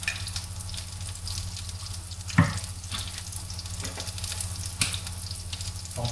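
Food frying in a little oil in a pan: a continuous close crackling sizzle with a couple of sharp utensil knocks, and no one talking.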